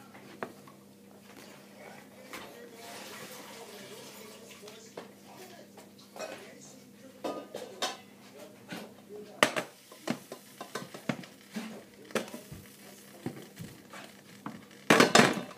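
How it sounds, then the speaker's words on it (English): A pot of boiling macaroni is taken off the stove in a home kitchen, giving scattered metallic clinks and knocks of pots and utensils, close by and growing busier toward the end. "Next, we're going to take our macaroni off the boil."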